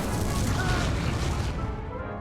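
The Incendio fire spell goes off in Hogwarts Legacy, a dense roaring burst of flame with booming, explosive weight that fades out toward the end, loud and close.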